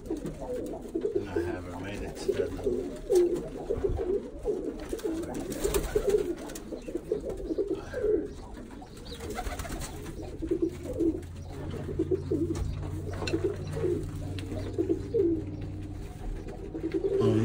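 Birmingham Roller pigeons, young squeakers on the loft floor, cooing in soft repeated low calls throughout, with faint shuffling and some speech-like murmur in the background.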